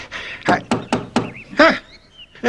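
Knocking on a door, five sharp, close raps in an uneven rhythm with short pauses, followed after a brief gap by a final knock.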